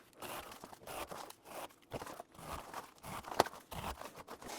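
A scraper razor slices along one side of a plastic container in short, quiet, crunchy strokes, close by, with a sharper snap near the end.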